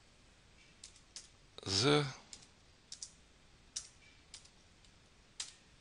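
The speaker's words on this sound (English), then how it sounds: "And I type in uppercase" Scattered computer keyboard keystrokes tapping out uppercase text, sharp light clicks spread in small irregular bursts, with a short spoken word cutting in between them.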